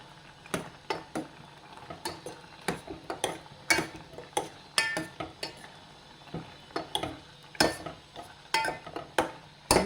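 A ripe papaya curry in a pot has a paste of ground coconut, cumin, garlic and curd stirred into it. A spoon clinks sharply and irregularly against the metal vessel in a steady run of close clatters.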